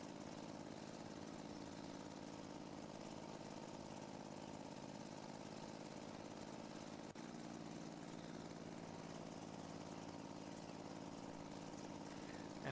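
Steady drone of a small Honda vehicle engine in the Farm Simulator 17 video game, a continuous idling mid-pitched hum at low level with a faint click midway, no talk.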